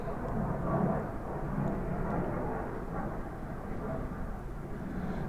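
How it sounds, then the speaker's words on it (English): Jet aircraft flying overhead, a broad distant roar that swells slightly then holds steady as a continuous rushing drone, heard indoors without talk. "sorry about the jet noise."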